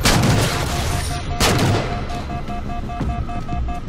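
Sniper Jackal gunfire in Halo 4's Spartan Ops Sniper Alley mission: two sharp, loud cracks about a second apart, each with a booming tail, over steady game ambience and a repeating electronic beep.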